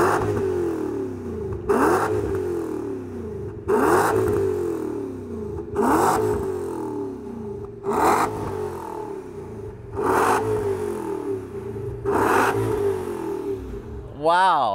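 A tuned BMW, shown among Japanese-tuned models such as the Z8 and a 570 hp AC Schnitzer M235i, blips its engine in sharp revs about every two seconds, seven bursts over a steady idle, while people talk nearby.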